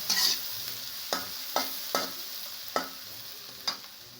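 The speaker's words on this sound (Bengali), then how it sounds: "এরপর এর ভিতর হাফ চামচ হলুদের গুঁড়া দিয়ে দেব, দিয়ে আবার নাড়াচাড়া করে নেব।" Spoon stirring water spinach and potatoes frying in a pan after turmeric powder goes in, giving repeated sharp scraping strokes at a steady rhythm over a continuous close sizzle.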